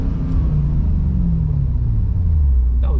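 A V8-swapped Lexus IS300 freshly fitted with coilovers drives along, a steady loud low engine rumble filling the cabin with a slowly falling drone as it cruises.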